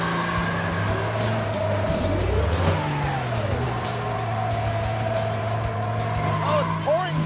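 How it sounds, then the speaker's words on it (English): A Ram truck engine revs hard during a smoky burnout, a loud roar whose pitch sweeps up and down repeatedly, with voices underneath. "Is this what the Ram truck sounds like?"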